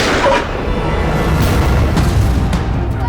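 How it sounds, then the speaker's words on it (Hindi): A loud, booming gunshot in a TV crime drama at the start, followed by a continuous rumbling, noisy din with no clear voices. "अरे गोली चली, निकल यहाँ से।"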